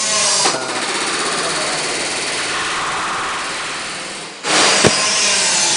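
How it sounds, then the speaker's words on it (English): Continuous rapid pneumatic riveting rattles loudly and close during restoration work on an Avro Lancaster bomber, NX611, running steadily for several seconds with short pauses at the start and near the end. "They're actually doing quite a lot of riveting, aren't they?"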